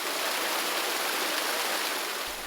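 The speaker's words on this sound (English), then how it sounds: "Today we're at Rhiwargor Waterfall in Oswestry, Wales." Rhiwargor Waterfall near Oswestry, Wales, pours in a steady, dense rush of falling water that stays loud and even from start to finish, with no voices over it.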